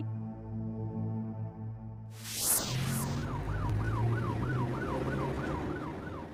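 A low engine hum and a brief honk, then an ambulance siren wails in repeating rising-falling sweeps as it passes nearby on a bad road.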